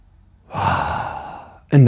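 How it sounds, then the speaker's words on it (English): A single deep, audible breath close to the mic during a martial arts warm-up, a long sighing exhale, cut off at the end by the start of a voice. "One more big breath."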